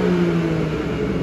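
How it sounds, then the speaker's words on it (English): BMW 340i M Sport F33 twin-turbo engine revving in sport mode, a steady loud engine drone held at high revs for just over a second, no voices. "I'll give you a little sound demonstration so you can get to hear how that twin turbo engine sounds."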